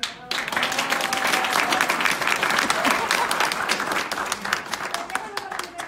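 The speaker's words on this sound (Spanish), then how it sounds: "Vamos a dar un fuerte aplauso a Francheca." Sustained applause from a live audience at a company mentoring event, dense and steady for several seconds after a brief quiet start, with clapping close and loud throughout.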